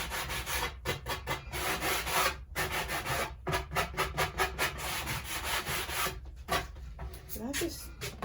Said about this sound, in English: I may have sanded the wrong side.